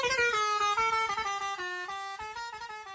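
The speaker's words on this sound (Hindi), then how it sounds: "जब ये तुमसे दूर जाती है तो हॉर्न की आवाज लो पिच में बदल जाती है" Car horn held down in one steady honk as the car passes, its tone dropping in pitch partway through as it moves away, loud and close with no talking.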